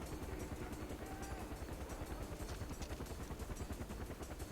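Helicopter in Far Cry 4, circling over an island area, a steady rhythmic rotor thump that throbs evenly throughout and sits low and fairly faint in the mix.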